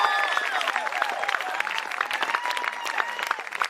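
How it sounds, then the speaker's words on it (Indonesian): Lively studio audience applause during a televised Indonesian talent competition, bright and dense clapping with crowd cheers and whoops mixed in, sustained throughout without speech. "Tepuk tangan buat kalian semua."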